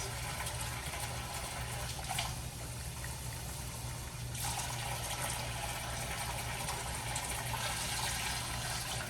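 Water runs continuously from a tap while beans are rinsed for beef chili, a steady close gushing hiss with small shifts in flow and no talk.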